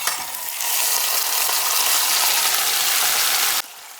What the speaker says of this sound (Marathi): आता याच्यामध्ये शेंगा आणि डाळ घालायची आहे।